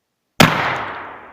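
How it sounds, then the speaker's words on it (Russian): A single gunshot: one loud, sharp bang that starts abruptly out of silence and trails off in a decaying echo. "Стрельба. Огонь."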